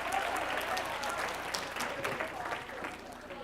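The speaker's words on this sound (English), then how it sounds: "And give her a nice round of applause." Audience applause at a workforce summit session, a steady wash of many hands clapping that fills the whole stretch at even loudness, with a voice faintly audible underneath.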